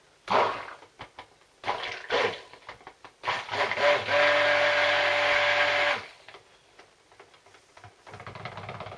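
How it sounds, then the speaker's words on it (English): A stick blender whirs steadily for about two seconds while blending orange sherbet, loud and close, preceded by clattering kitchen handling. "Just grab my stick blender."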